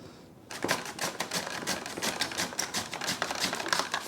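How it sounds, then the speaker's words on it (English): A knife slicing a fennel bulb on a cutting board, a rapid run of crisp, crunchy chops in a fairly even rhythm after a brief quiet start, close and moderately loud. "There are many different ways to slice up fennel."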